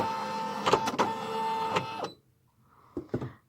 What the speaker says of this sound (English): we're getting our machine ready. And we've already fixed our shirt on the embroidery hoop